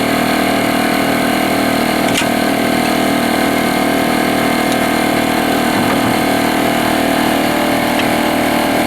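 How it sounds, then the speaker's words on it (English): An air compressor runs nonstop in a workshop, cycling on because of a leaky air hose during a Ford Windstar control arm job; a loud, steady mechanical drone with a few faint clicks and knocks mixed in. "Leaky air hose, so my compressor keeps kicking on."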